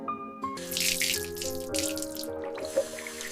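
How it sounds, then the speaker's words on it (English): Cold water runs from a bathroom tap into a sink for face washing, a steady splashing flow with a few drips, heard over gentle background music. "I wash my face with cold water."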